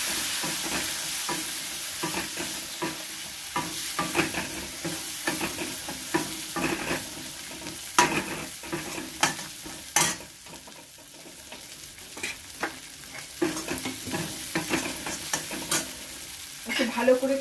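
Spices, coriander, cumin, turmeric and dried chilli, fry in a pan with chickpeas, Bengali style, a steady soft sizzle broken by frequent scraping stirs of a spoon against the pan, close and quiet with no talking.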